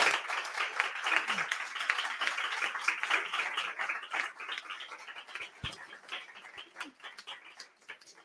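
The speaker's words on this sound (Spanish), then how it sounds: "yo pido un aplauso" A modest audience claps at a public affairs report presentation, with distinct individual claps audible in the mix, fairly quiet and gradually tapering off toward the end.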